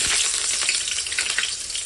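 Onion frying in a little hot oil in an iron pan, a steady bright sizzle that fills the short moment up close, with small crackles and pops on top and nobody talking.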